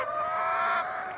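Chickens cluck steadily at close range while being fed outdoors in the snow, a continuous chorus of fowl calls with no talk.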